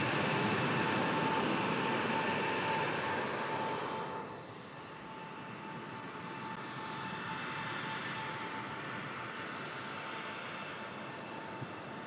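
A Jet2 Boeing 757 departing Manchester Airport roars loudly with jet engine noise that then fades to a lower, steady distant rumble as it climbs away.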